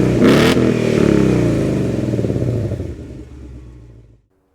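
The V8 of a 2018 S550 Ford Mustang GT with active exhaust revs hard and loud up close, with deep throaty exhaust rumble and crackle that gradually winds down and cuts off.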